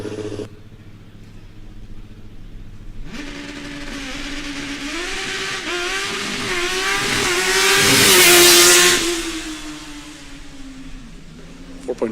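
A Formula Student race car on a historic acceleration run, its engine winding up hard and bouncing off the rev limiter in a stuttering buzz, growing louder as it passes close, then fading away.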